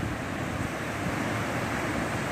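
Strong wind buffets the microphone in a steady, dense roar over the open sea, with waves churning beneath it, heard from a fishing boat heading out for lobster in rough water; no voices.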